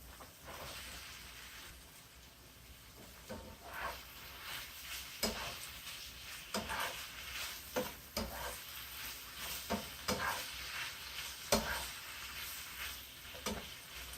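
Steak and mushroom quesadilla filling sizzles steadily in a pot while a utensil stirs through it, scraping and clinking at an irregular rhythm over a constant close frying hiss.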